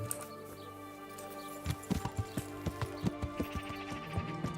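Horse hooves clip-clop in Kingdom Come Deliverance, starting after a quiet stretch, then a steady, even trot of sharp, close hoof strikes over low ambient sound.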